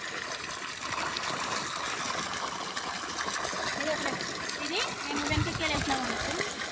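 Water from a farm borewell gushes steadily onto a field, a continuous broadband rush that stays loud and even throughout, with a few scattered voices faintly underneath.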